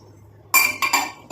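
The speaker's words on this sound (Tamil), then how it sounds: "இப்போ இதில் வந்து ஒரு மூடியை போட்டு மூடி வச்சிடலாம்" Lid pressed onto a container of henna paste, a few quick clinks and clatters in close succession, loud and near, after a brief quiet moment.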